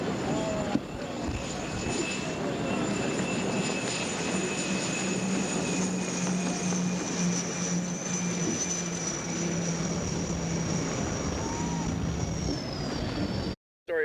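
Hydroplane race boats roar on Lake Washington, a sustained loud engine drone with a high whine that slowly shifts pitch, continuous and close, cutting off abruptly at the end.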